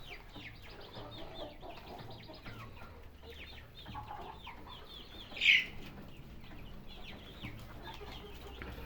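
A flock of about 140 mostly black hens with a few roosters clucks and chatters continuously at a moderate distance, with one sharper, louder squawk standing out partway through.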